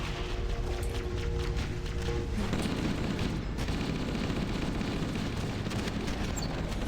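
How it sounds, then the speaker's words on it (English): Shotgun blasts and surrounding combat in the shooter game Halo: Combat Evolved, a continuous dense barrage of gunfire and booming impacts with heavy low rumble, at a steady loudness throughout. "I did a shotgun, one shotgun blast that took down 2 guys."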